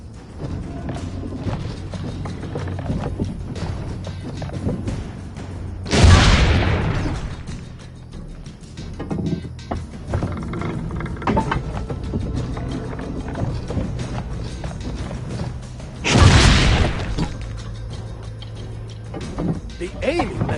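Ship cannon fire in Assassin's Creed Brotherhood, two loud booming blasts spaced about ten seconds apart over a busy game soundscape with voices talking.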